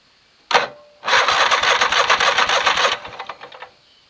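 An old vehicle engine gives a sharp initial sound, then cranks and catches, running with a rough steady chug for about two seconds before sputtering and winding down. It is loud and close, with no talk.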